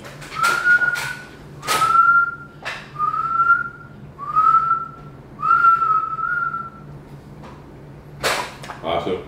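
A series of short, rising whistled notes, about five in a row, close and fairly loud, followed by a brief noisy burst.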